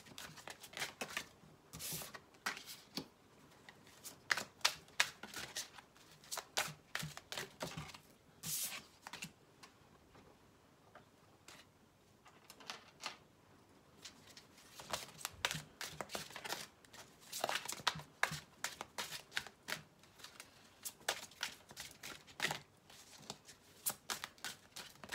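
Tarot cards shuffled for a reading, a soft, quick, riffling patter of cards close up that runs almost continuously with small pauses, with no talk over it.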